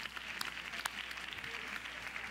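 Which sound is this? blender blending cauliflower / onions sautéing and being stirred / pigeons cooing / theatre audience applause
theatre audience applause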